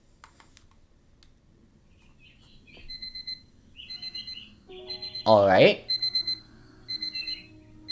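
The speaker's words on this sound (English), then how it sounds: "Shut off that alarm." A video-game alarm clock in Honkai Impact 3rd beeps in short, shrill, evenly spaced bursts that grow louder, mixed with light clicking, while a voice speaks briefly over it.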